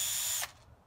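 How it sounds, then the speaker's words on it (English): A power drill whirs at high speed spinning a tea bag, a loud steady buzz that cuts off abruptly partway through and leaves near silence. "That's why I hooked up this tea bag to this power drill"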